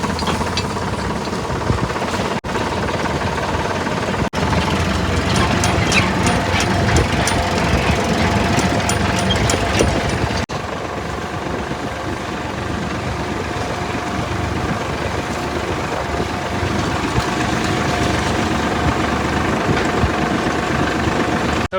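A tractor engine runs close by, a loud, continuous diesel chug with a rapid knocking rhythm that holds steady throughout.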